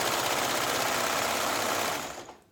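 A sewing machine sews down a thread tail in a short continuous run, a steady close mechanical hum that winds down and stops near the end.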